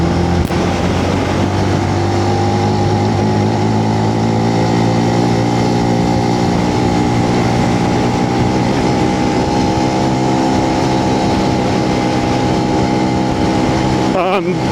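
A small Benelli BN125 125cc motorcycle engine drones steadily at a strained, labouring pitch while climbing the steep Hardknott Pass, loud and continuous throughout with wind noise mixed in.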